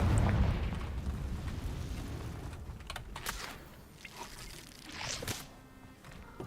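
A Confringo fire spell blasts in a Hogwarts video game: a loud, deep rumbling burst that slowly fades into crackling debris and scattered crisp impacts.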